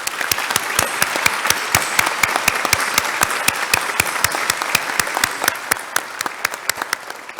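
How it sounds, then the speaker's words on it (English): At a community awards ceremony honouring police, fire, rescue and volunteer crews, the audience gives sustained, even applause, with a few loud nearby claps standing out sharply over the steady crowd clapping throughout. "Let's give them a big round of applause."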